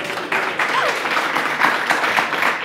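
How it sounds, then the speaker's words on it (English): An audience applauds at a hosted talk event, a dense, steady wash of clapping from a crowd heard up close for a few seconds with no speech over it. "Please continue the applause."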